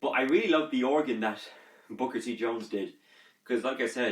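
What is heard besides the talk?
No distinct noise like a dog, phone or traffic.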